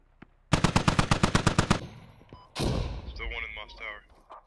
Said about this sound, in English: More 40mm rounds coming in